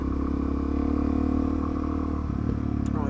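A Suzuki DRZ400SM petrol motorcycle engine drones steadily and close with harmonic tones, a brief dip at a gear change, then pulls on as revs climb.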